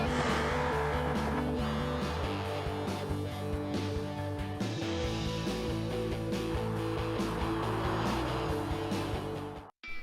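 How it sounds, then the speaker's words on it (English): A 1300 hp rear-wheel-drive minivan launching on a drag strip in BeamNG, a loud sustained engine roar with layered harmonic tones that shift as it accelerates, then cuts off abruptly near the end. "a 1300 horsepower rear-wheel driven minivan struggles for grip"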